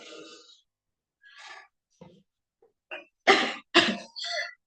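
A young presenter in a competition skit acts out a bout of coughing, with several short throaty coughs and rasping bursts separated by silences, the last few louder and harsher.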